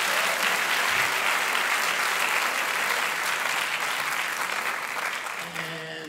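Steady applause from a concert audience as a university lab jazz band's first group leaves the stage, a full even wash of clapping that fades toward the end, where a faint tone enters.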